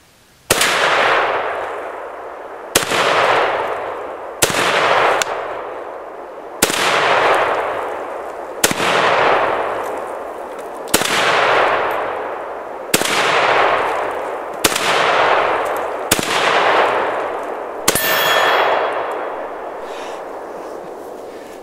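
A 1953 Tula Russian SKS rifle fires hollow-point rounds at steel targets outdoors: about ten sharp, loud shots at irregular intervals of roughly two seconds, each followed by a long, ringing decay.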